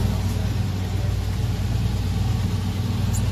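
A Dodge Durango full-size SUV engine running in the rain, a steady low rumble held close and continuous with no clear revs.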